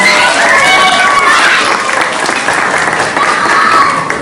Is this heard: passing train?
no